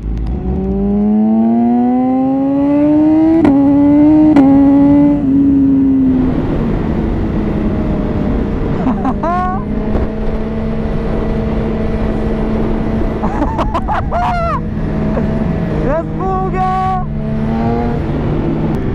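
A BMW S1000RR motorcycle engine revs hard, its pitch climbing through several sharp rises before settling into a steady high drone, followed by more quick throttle blips, loud and close throughout.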